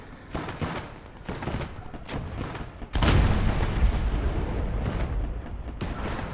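Heavy gunfire and booming explosions in a Gates of Hell battle on the Ukraine front, a steady stream of loud, dense shots that swell into a big roaring blast midway and keep rumbling afterward, with no talk.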